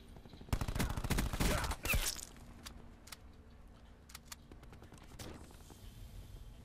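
Bursts of rapid automatic gunfire from the Cordite in Black Ops 4, loud and close, firing in a dense volley for about a second and a half, followed by scattered single shots and faint clicks.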